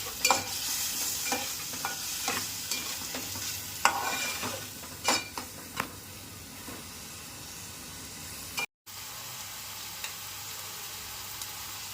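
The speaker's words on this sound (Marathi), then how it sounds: "आता आपण टोमॅटो टाकणार आहोत. टोमॅटोलाही चांगलं परतून घ्यायचं." Tomatoes stirred and sautéed in a pan for a spicy crab curry, a steady close sizzle and hiss with repeated scraping stir strokes, briefly cutting out near the end before the frying resumes.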